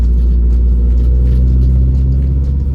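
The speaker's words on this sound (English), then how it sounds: "I'm just letting Jake watch his car roll away right now." Nissan 240SX S14 rolling along in second gear, a loud, steady low engine rumble heard close from inside the car with no talking.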